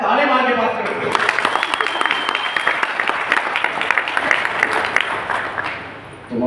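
An audience at a product talk for a nutrition supplement claps together in a dense burst of many hands, loud and close, fading out toward the end.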